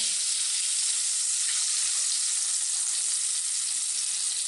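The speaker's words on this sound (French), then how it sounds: "on saisit bien d'un côté. Donc là, le gras de la viande autour va fondre au fur et à mesure" Meat sears in a hot pan as its surrounding fat melts, producing a loud, constant, hissing sizzle that holds steady without pause.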